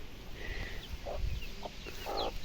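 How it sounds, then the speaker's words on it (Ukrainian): Soft, scattered clucks from a hen nearby over a noisy outdoor background, a few short calls spaced irregularly. "Хто там квокає?"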